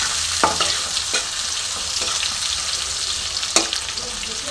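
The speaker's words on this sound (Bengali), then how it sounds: "এবার পেঁয়াজটাও খানিকক্ষণ আমি ভেজে নেব।" Chopped onion, squeezed by hand, frying in oil in a pan, a loud continuous sizzle broken by several sharp stirring scrapes and clicks; no one speaks.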